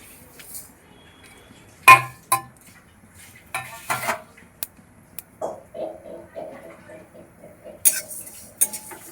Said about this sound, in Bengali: মৌরি আর জিরে একসঙ্গে ভেজে গুঁড়িয়ে নেব।